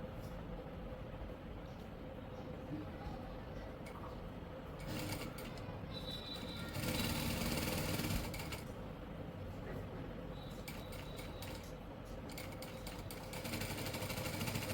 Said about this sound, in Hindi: अब हम इसे इस तरह से सिलाई लगाएंगे, इस तरीके से दोनों तरफ की।